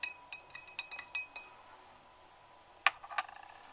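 A glass rod clinks against the inside of a glass beaker of colored water while it is stirred. Several sharp, bright taps come in an uneven cluster, then a pause and two more clinks, close and fairly quiet.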